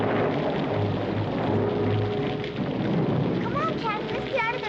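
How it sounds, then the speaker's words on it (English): Heavy rain pouring steadily over a wet country road with low thunder rumbling underneath, a dense continuous wash of sound with a few faint higher chirps near the end. "It's beginning to rain."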